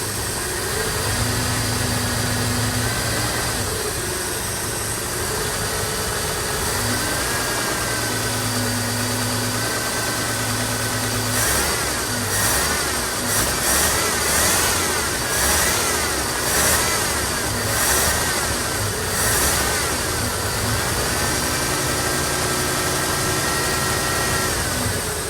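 A 1974 Ford F-250 engine runs steadily after a fuel line replacement, idling with a slightly uneven, stumbling rumble and occasional revs, close and continuous for the whole stretch with no talking.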